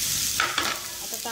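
Fresh creek prawns fry on a tawa over a low flame, a constant close sizzle broken by a few quick scraping stirs.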